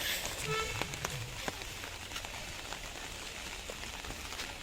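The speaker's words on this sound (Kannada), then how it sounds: "ಈಗ ಫಸ್ಟ್ ಮಳೆ ಬರ್ತಾ ಇದೆ" First rain of the season falls on the way to Chiklihole Dam, a soft, continuous patter of drops hitting surfaces at moderate distance, with a few sharper taps scattered through it.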